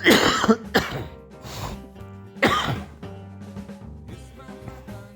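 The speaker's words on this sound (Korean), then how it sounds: "찬바람 썼다고 자꾸 이렇게 또 콜록콜록 됩니다." Several harsh coughs and throat clearings come close to the mic in bursts, separated by short pauses and a quieter stretch.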